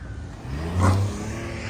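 A car engine swelling briefly into a rev as the vehicle moves at a river ferry launch, a single rise and fall over steady low rumble and outdoor noise.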